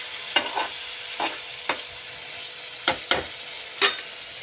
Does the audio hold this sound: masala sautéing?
yes